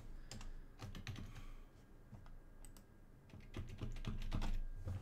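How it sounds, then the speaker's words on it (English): Steady typing on a computer keyboard during a coding session, irregular bursts of close, crisp key clicks with brief pauses, no talking. "Really, absolutely loving this like four second delay with my keyboard."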